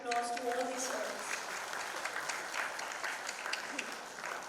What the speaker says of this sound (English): So huge round of applause to all these films.